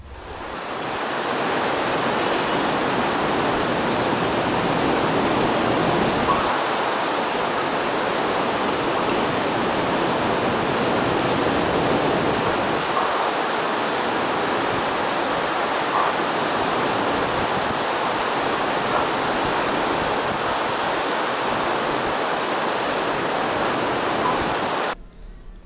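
At the Devprayag confluence, a wild river rushes in a dense, unbroken roar. The turbulent water keeps up a loud, steady hiss with no pauses and no voices.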